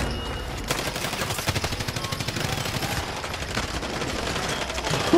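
Rapid machine gun fire in Call of Duty Warzone, a steady fast stream of shots near and loud for several seconds, with no talk over it.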